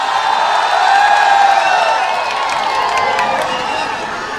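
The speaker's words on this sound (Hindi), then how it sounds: "पुरजोर तालियों में आपके हवाले।" A large crowd at a political rally in Malegaon greets a newly elected MLA with loud cheering and clapping. Shouted voices are mixed in, and the roar stays strong before easing slightly toward the end.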